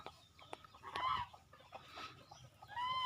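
Hens in a Thai backyard flock cluck and murmur in scattered bursts, with a couple of sharper squawks rising above a soft, steady farmyard background.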